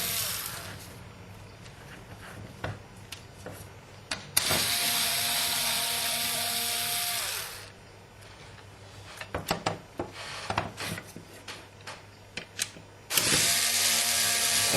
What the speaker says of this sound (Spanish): Procedemos y aflojamos los tornillos.